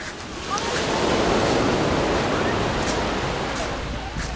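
Sea waves wash onto a beach at Alanya, a steady, close, broadband roar of surf that swells after the first half second and holds without pause.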